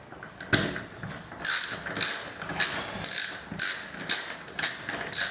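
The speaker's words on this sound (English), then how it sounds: "the locking nut can come off with a socket set" A socket set ratchet works loose a corroded locking nut on a tap handle, a loud, close, steady series of clicking ratchet strokes, about eight evenly spaced bursts with no voices.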